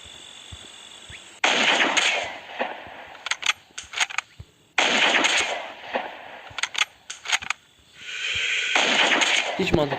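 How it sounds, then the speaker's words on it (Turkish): Gunfire in the video game LONEWOLF crackles in three loud bursts of rapid automatic shots, separated by short pauses with scattered single shots and brief gaps. "Çünkü silah sesi var"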